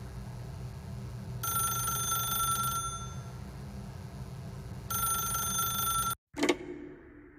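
An in-game telephone rings in two long electronic bursts separated by a pause, then a short clunk as the receiver is picked up.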